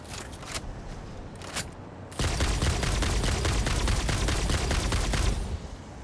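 Gunfire in the video game Satisfactory: a couple of sharp isolated shots, then a fast, continuous burst of rapid rounds lasting several seconds before it cuts off.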